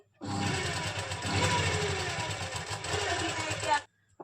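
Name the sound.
sewing machine stitching long stitches with single foot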